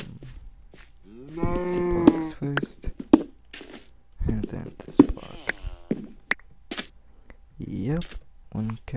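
Several drawn-out cow moos in the Minecraft video game, loud and close, separated by keyboard typing and clicking, with a person speaking between them.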